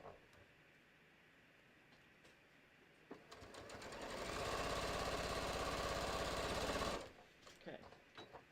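Sewing machine stitching a half-inch seam on a bucket hat crown, a steady close whirring run of about four seconds that starts and stops abruptly amid quiet room sounds.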